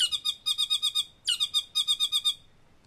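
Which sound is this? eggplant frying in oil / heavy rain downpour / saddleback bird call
saddleback bird call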